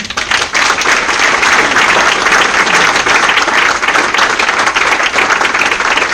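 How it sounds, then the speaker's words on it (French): An audience at a literary gathering warmly applauds invited guests, loud and close, with sustained clapping that swells right away and keeps going without a break. "Je vous invite à les applaudir chaleureusement"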